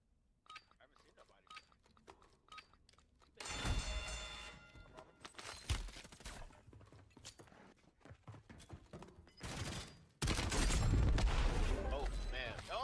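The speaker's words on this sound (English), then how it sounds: "Mortar strike." Mortar strike explosions in Call of Duty boom out in loud, broadband bursts, with heavy blasts near 3.5 s and a sustained rumbling barrage from about 10 s, mixed with scattered gunfire and game effects while players talk.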